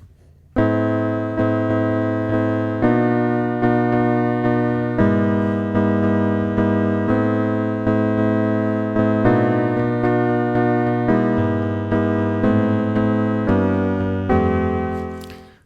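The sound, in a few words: Casio keyboard electric piano preset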